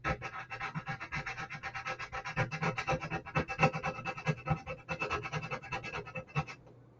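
Metal file rasping repeatedly under the bow of a USS Arizona scale model hull, a steady run of close, dry scraping strokes that fade out at the end.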